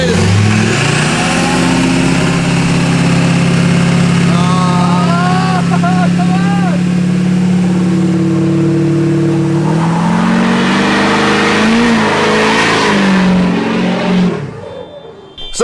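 Lifted 1000 hp truck engine runs loud and close, building from a steady deep rumble into rising revs before cutting off near the end, with a voice speaking briefly over it.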